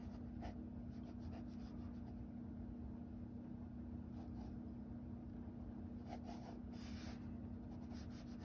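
Pencil sketching lines on paper, with faint scratchy strokes in short intermittent bursts over a steady low background hum.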